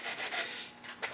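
100-grit sandpaper works the wooden stock of a Winchester Model 88 in a few brisk, close rasping back-and-forth strokes, loud and steady, with no voices.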